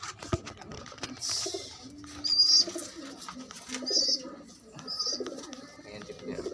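Pigeons coo softly nearby in low, rounded calls, repeated intermittently among scattered chirps and faint rustling and clicks.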